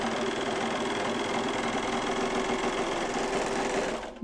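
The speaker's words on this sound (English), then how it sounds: "My tension of my serger is, it's not optimal for one layer of fabric" A serger stitches a single layer of dress fabric in one continuous, steady mechanical whir that runs close and uninterrupted for about four seconds, then cuts off.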